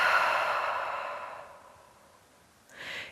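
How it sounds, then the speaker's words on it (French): A long, audible exhale through an open mouth during a yin yoga relaxation, fading gradually over a couple of seconds, followed by a short breath at the end. "Ouvre la bouche, expire."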